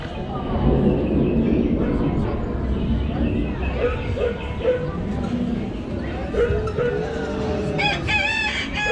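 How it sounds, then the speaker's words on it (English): On the farm scene of Epcot's Living with the Land boat ride, chickens cluck and a rooster crows near the end, mixed with dog-like barking, ride ambience and a narrator's voice. "Chicken."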